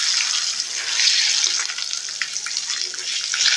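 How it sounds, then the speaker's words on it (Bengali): Boiled eggs, scored with cuts, sizzle and crackle as they are stirred and fried in oil, a bright continuous hiss with small scraping clicks, close up and without voices. "তারপর নেড়ে নেড়ে আমি ডিমগুলোকে ভেজে নেব"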